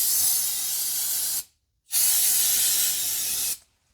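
Aerosol parts cleaner sprayed onto a Jeep Wrangler JL transfer case and skid plate: two loud, close hissing bursts, each about one and a half seconds long, separated by a brief silence.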